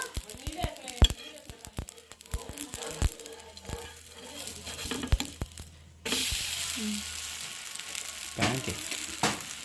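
Onions and cumin fry in oil in a pan, giving a soft crackling sizzle mixed with sharp clicks and stirring knocks, which then swells into a louder, steadier hiss while someone talks nearby.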